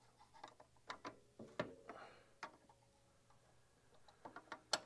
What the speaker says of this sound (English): so we'll just use the wrench